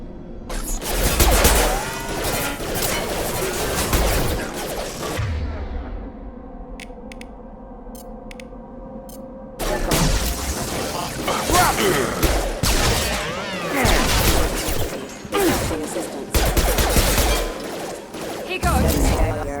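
Bursts of gunfire from a Mass Effect 2 firefight, loud and dense in two long clusters separated by a quieter stretch of mechanical hum and faint beeps, with rapid overlapping shots and impacts.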